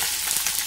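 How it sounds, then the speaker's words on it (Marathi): Green chilies sizzle in hot oil with roasted peanuts in a pan, a steady broadband hiss lasting under a second, close and continuous with faint crackles and no voices. "आता यामध्ये चवीनुसार हिरवी मिरची घालणार आहे"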